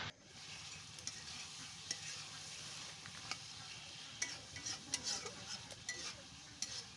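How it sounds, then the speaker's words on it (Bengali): Pigeon meat for a spicy bhuna stir-fried in a pan, sizzling steadily with frequent stirring scrapes and small clinks, close and moderately loud with no talking. "আমি মাংসটাকে বেশি সময় কষিয়ে কষিয়েই রান্না করব।"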